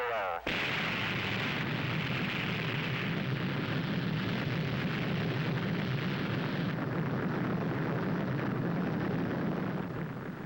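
Missile launch at the end of a countdown: a loud, sustained broadband roar bursts in abruptly and rumbles steadily without pause, filling the whole stretch at close, heavy intensity.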